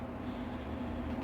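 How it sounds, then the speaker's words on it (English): A fan blowing on a wood stove hums as a low, steady whir, faint and constant in the background of a workshop. "I got my fan blowing on my wood stove."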